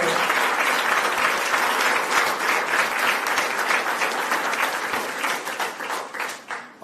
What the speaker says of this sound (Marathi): एकदा जोरदार टाळ्या होत्या.